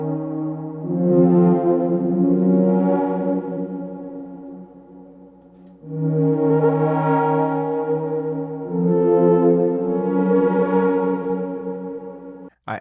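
Sustained chords from an Arturia OP-XAV synthesizer, three long swelling chord phrases with rich harmonic stacks and a reverberant, bell-like sheen, each fading before the next chord change, with no voices.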